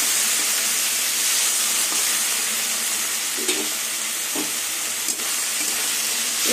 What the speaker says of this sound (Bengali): এবার রসুন দিয়ে কিছুক্ষণ আবার কষিয়ে নেব, রসুনের কাঁচা গন্ধটা চলে যাওয়া অবধি।